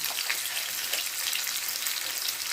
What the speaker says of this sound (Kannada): ಕಾಳು ಮೆಣಸು ಸ್ವಲ್ಪ ಚೆನ್ನಾಗಿ ಫ್ರೈ ಮಾಡ್ಕೊಳ್ಳಿ.